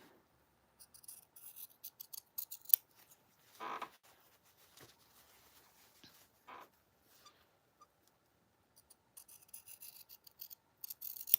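Scissors cutting fabric by hand, a sewing project for a backpack pattern: scattered short snipping and rasping strokes in irregular bursts, faint and close, with quiet gaps between cuts.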